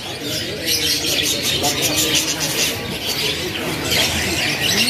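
Canaries and other caged birds chirp and squawk at the Pramuka bird market in Jakarta, a busy overlapping chatter of calls with occasional wing flutters and voices mixed in.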